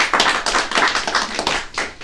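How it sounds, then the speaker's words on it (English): A small group claps for David in a wealth-building seminar, a brief burst of close, uneven handclaps lasting about two seconds. "Give David a round of applause."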